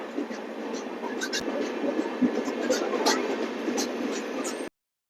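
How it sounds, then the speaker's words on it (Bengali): The Falaknuma Express train stands at Bhadrak junction station, with a steady low rumble of the carriage and platform ambience, a few sharp clicks and knocks over the murmur, ending abruptly. "এই ভদ্রক স্টেশনে আমাদের ট্রেন এসে পৌঁছেছে"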